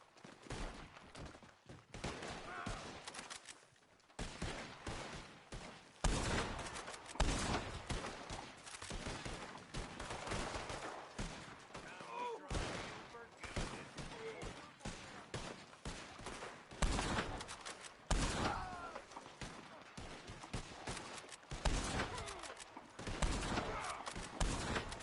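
Sustained turret gun fire in the online western game Red Dead Online, a long continuous barrage of rapid heavy shots, loud and relentless with brief gaps.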